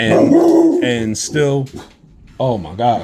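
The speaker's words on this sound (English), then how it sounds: "that's my dog. Kratos, calm down." Pet dog named Kratos barking and yipping close by in a home, several sharp barks in quick bursts mixed with someone talking over them.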